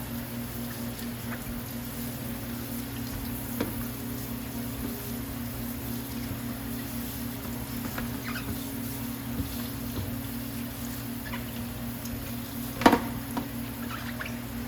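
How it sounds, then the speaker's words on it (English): Tap water runs in a low, steady wash as cut white potatoes are rinsed beneath it, with a few faint knocks and clatters now and then and no one talking. "right here we're just gonna rinse these potatoes off that I cut up"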